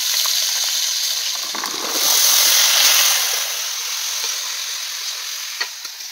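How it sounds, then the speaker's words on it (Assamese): Onion and ginger-garlic paste hit hot oil with panch phoron spices in a vegetarian dish, a steady loud sizzle and hiss that surges mid-way as the ingredients go in, then settles into continuous frying. "পাঁচফোৰণ দিলোঁ পিঁয়াজ দিলোঁ আদা ৰচুন দিলোঁ পেষ্ট"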